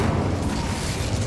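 The Incendio fire spell in the Hogwarts Legacy video game bursts out as a short, dense, roaring whoosh of flame, loud and continuous for about a second.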